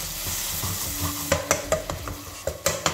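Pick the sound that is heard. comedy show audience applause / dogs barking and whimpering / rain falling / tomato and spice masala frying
tomato and spice masala frying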